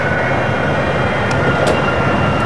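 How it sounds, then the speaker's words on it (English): Aircraft thrust reverser roaring on landing, a loud broad continuous engine rush heard close and steady, with no voices. "Thrust reverser operation."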